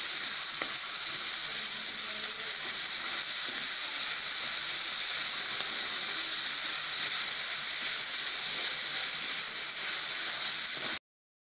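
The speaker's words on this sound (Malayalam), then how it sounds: "ഇനി നമുക്കിത് നന്നായിട്ട് ഇളക്കി കൊടുക്കാം" Salted vegetables for a vegetable biryani are stirred in a hot pan, giving a steady, close frying sizzle and hiss that runs unbroken throughout, with faint stirring scrapes underneath.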